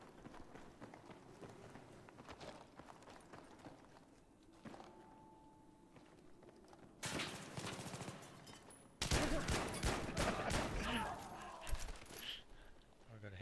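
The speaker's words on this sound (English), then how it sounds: "Wicked little fast submachine gun." Bursts of rapid submachine gun fire ring out in a video game, loud and dense, over running footsteps and background game noise while players talk.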